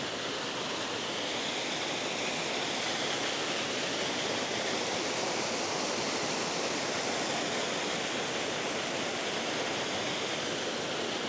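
Waterfall in a Norwegian fjord, fed by snowmelt from high above, roaring as a dense, continuous rush of falling water, loud and steady without pause.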